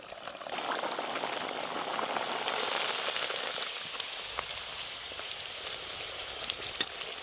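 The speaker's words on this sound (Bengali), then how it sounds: "আজকে খাস্তা কচুরিগুলো একটু কড়া করে ভাজছি" Crispy dal kachoris deep-frying in hot oil until browned give a dense, continuous bubbling hiss with a few scattered pops, fairly close and uninterrupted by talk.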